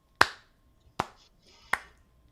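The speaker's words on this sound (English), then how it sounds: "She claps slowly," Three slow, deliberate hand claps ring out, each a sharp crack with a short tail and evenly spaced pauses between them, sarcastic in pace, in an otherwise quiet indoor space.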